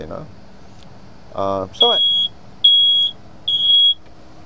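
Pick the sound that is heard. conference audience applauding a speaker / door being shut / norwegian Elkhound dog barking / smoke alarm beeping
smoke alarm beeping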